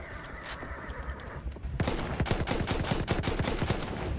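Horse neighing in the Battlefield 1 video game, a whinny in the first moments, then dense gunfire-like cracks and hoofbeat thuds filling the rest of the clip loudly without speech.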